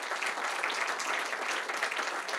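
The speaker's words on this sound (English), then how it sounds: "Give them a round of applause." Audience applause at a ribbon-cutting event at the Philadelphia Navy Yard, a dense, steady burst of many hands clapping at once, close and continuous.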